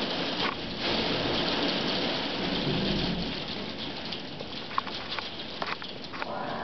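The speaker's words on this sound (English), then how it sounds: "Holy shit. That is torrential." Torrential rain pouring down in a thunderstorm with hail, a loud, continuous wash of downpour with scattered sharper drops and hits against surfaces nearby, with no voices.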